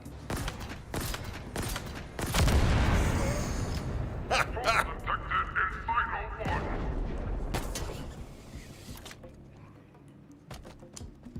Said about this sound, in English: What a great explosion.